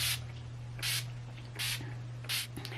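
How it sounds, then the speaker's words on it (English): Four short hissing bursts of Urban Decay setting spray misted onto a face, evenly spaced, close by, over a steady low electrical hum. "I'm going to mist my face with a little bit of Urban Decay setting spray."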